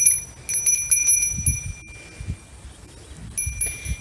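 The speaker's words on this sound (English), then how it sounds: "I love that bell." A bell worn by a Blue Faced Leicester ewe jingles in short bright tinkling bursts, close by, with soft low rustling and bumps between the rings.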